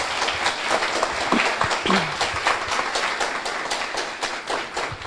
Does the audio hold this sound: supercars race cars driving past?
no